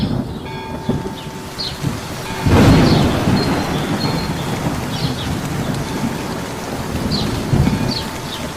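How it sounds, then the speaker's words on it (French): Heavy rain pours steadily through a forest, with a deep rumble of thunder rolling in partway and lingering under the dense hiss of the downpour. "Du côté de la forêt, une forte pluie se mit à tomber."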